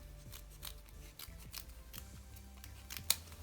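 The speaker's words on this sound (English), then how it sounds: "then I'm going to cut some strips" Scissors snipping paper strips for a small shield on a paintbrush craft figure, a steady run of soft, close crisp cuts with one sharper snip near the end.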